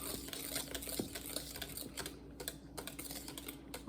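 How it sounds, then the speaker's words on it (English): Chocolate chess pie filling beaten in a bowl, a quiet, rapid run of clicking and tapping strokes close by, irregular but continuous for a few seconds with no talking. "Beat that up real good."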